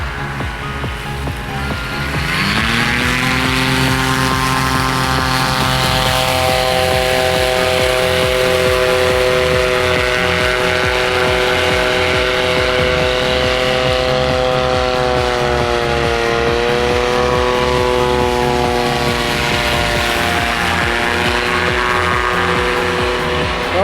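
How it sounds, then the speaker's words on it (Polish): A motorized hang glider trike's Skystone engine drones loudly and steadily with a buzzing, harmonic tone that shifts pitch slightly as it revs, close by and with no talking. "No i trajeczka na silniku Skystone"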